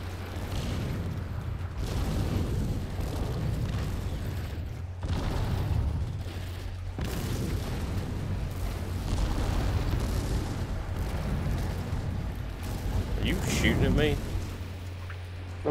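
Explosions in the game No Man's Sky go off as repeated low booms and bursts among mechanical game noise, with a burst of sharp high crackle near the end, while a person talks throughout.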